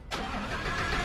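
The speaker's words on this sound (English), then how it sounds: "turn the car on" A car engine cranks and catches after a short silence, then settles into a steady, loud running idle close by, with no voices.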